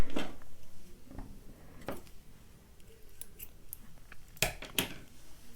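Scissors snip yarn at a crochet ornament, a few crisp, close cuts with short pauses between them, heard alone in a quiet room.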